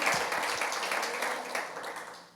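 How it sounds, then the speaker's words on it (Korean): A church congregation claps together in praise of God during a pastors' seminar, a dense, steady wash of applause that holds for a couple of seconds and then begins to fade. "하나님께 박수로 영광을 올려드리시기 바랍니다"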